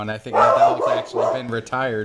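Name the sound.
pet dog Mason barking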